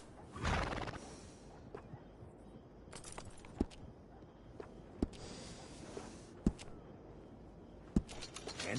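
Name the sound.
horse neighing in Red Dead Redemption 2 video game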